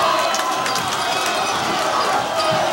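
Crowd applause and cheering fill a gym at the Argonaut vs Amador basketball game, a steady, dense wash of clapping and shouts with no break that stays loud the whole time.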